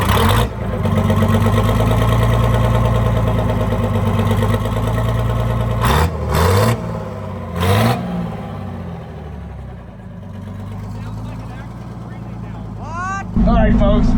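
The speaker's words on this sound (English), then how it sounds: "Let's check out this new exhaust." A classic Detroit Diesel engine, back after 25 years off the road, idles loudly through a new exhaust with a heavy, even rumble, broken by a couple of brief revs and some faint background noises.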